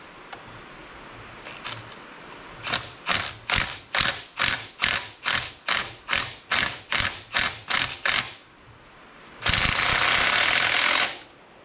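Power tool, likely an impact wrench, working corroded top bolts on the front Dana 25/27 axle of a 1959 Willys Jeep CJ-5: about twelve regular hammering bursts, then a pause and a longer continuous run, close and loud.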